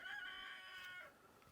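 A rooster crows once, loud and close, a single drawn-out call fading near the end with quiet background.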